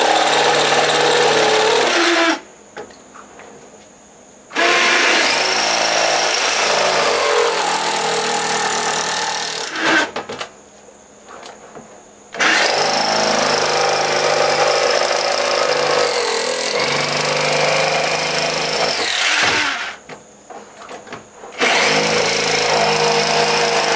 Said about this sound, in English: Now we're going to take this jigsaw and see if we can't carefully get that hole the size we want.